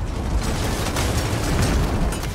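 A grenade blast in Gears of War 4 bursts as a dense, loud rumbling boom, a sustained roar of debris and low-end energy filling the whole moment with no speech over it.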